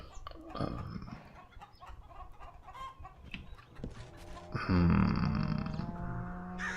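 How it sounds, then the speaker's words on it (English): Chickens cluck repeatedly in a farm video game, with short bursts scattered over several seconds and a louder, denser stretch of clucking and ambient farm sound toward the end. "of course, there's a chicken outside"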